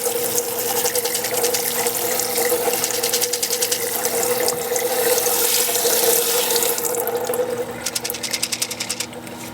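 Vegetables are rinsed under a running kitchen tap, a steady close rush of water with splashing and shifting as the produce moves through the stream, with no talking.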